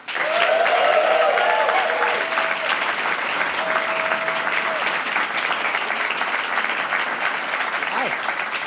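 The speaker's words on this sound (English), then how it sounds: "We'll save the big round of applause for this incredible musician." Sustained audience applause with scattered cheers for a musician arriving at a live radio studio session, a dense, even wash of clapping that holds steady throughout and ends only at the close.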